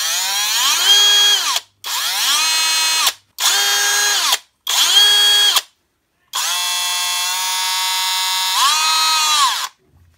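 A Parkside Performance 12V cordless drill-driver (PBSPA 12 A1) spins a bit in four short whirring bursts and then one longer run, each rising to a steady high motor whine and stopping cleanly, loud and close with silence between.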